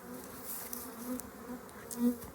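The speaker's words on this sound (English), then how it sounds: "A lot of these bees on this frame are known as nurse bees" Honey bees buzz softly around an open hive frame covered with nurse bees, a faint steady hum with a few individual bees droning closer at times.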